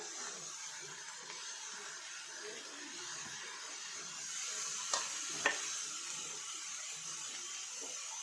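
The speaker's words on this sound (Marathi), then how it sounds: "ह्याला आधी व्यवस्थित परतून घेऊ आपण" Paneer momo filling being sautéed in a pan, a faint steady sizzle with soft stirring scrapes and two brief sharp clinks of a utensil partway through, no talking.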